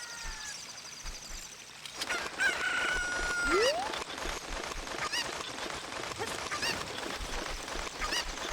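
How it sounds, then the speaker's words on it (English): A cucco, the chicken of the Ocarina of Time video game, clucks and crows among other game sounds, with a rising squawk partway through, under busy music and effects. "Alright, chicken, come here."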